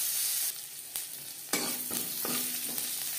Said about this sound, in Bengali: শুকনো লঙ্কা, কাঁচা লঙ্কা ও জিরে ভেজে নেওয়ার পর